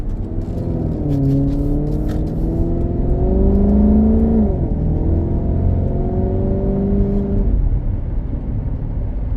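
A Maserati GranTurismo accelerates hard on a test drive, heard from inside the car. The engine pitch climbs through rising sweeps, drops briefly at a gear change, then climbs again before easing off, loud and close, with no talking.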